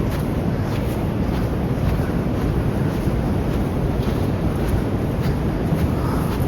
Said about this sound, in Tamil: ஏதோ ஒரு ஃபால்ஸோ ஏதோ ஒரு தண்ணி சவுண்ட் அது கிளியாக கேட்குது.